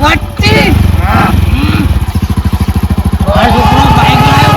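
A motorcycle engine running close by, a loud, rapid pulsing putter that surges and settles, with people talking over it.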